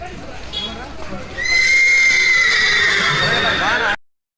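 A horse at a temple chariot festival gives a loud, long whinny that rises then trails off for about two and a half seconds, after softer crowd murmur and a faint hoof clop.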